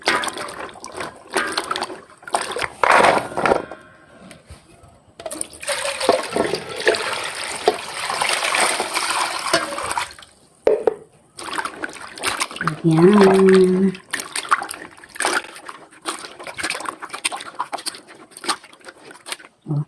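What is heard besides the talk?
washing papaya in water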